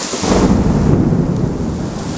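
Heavy summer thunderstorm rain at Quartu Sant'Elena pours down as a loud, dense, continuous roar with a deep rumbling undertone throughout, and no voices are heard.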